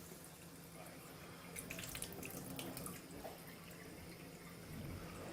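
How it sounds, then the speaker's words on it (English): Tap water running from a faucet into a sink, a soft steady trickle and splash that swells briefly in the middle, quiet and close with no talking over it. "First, I'm going to get tap water, which is coming from this source right here."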